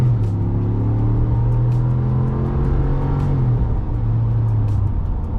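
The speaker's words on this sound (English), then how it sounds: "let's do one more quick acceleration so you guys can hear the notes" A 2022 Ram 1500 Laramie pickup accelerating hard from inside the cab, its engine a steady loud rumble that climbs in pitch, dips briefly at a shift, then rises again.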